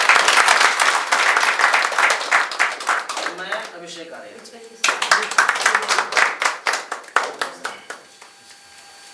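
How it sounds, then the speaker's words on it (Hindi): Audience at a staging of the Hindi play Janani by Bahurang in Begusarai, Bihar, breaks into loud, full applause that fades, then someone speaks and scattered claps return under his voice. "एक बार जोरदार ताली दीजिए"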